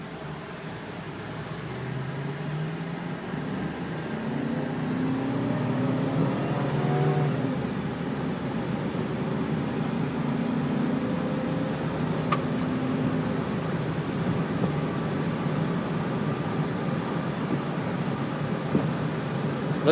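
A steady low engine and road drone inside a moving 2005 Chevy Suburban LT with the 5.3 engine, an even cabin hum with faint shifts in pitch and no talking.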